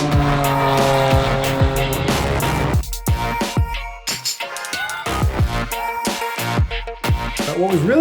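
A BMW GT4 race car runs on the track at Watkins Glen with a loud, close engine roar, sharp shifts and revving, and tires squealing through corners, the note climbing and dropping across several gear changes.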